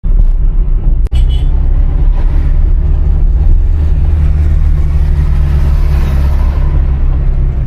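A car drives a rainy, cloud-covered road toward Ooty in cold weather. Its low engine rumble stays steady and close the whole time, with one brief click early on.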